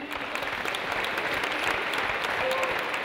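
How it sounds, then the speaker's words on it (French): A hall full of people claps steadily at an award ceremony for women in aeronautics careers, dense continuous applause close and loud, with a faint voice underneath. "on applaudit"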